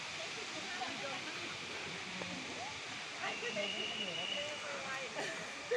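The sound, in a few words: Erawan waterfall, Kanchanaburi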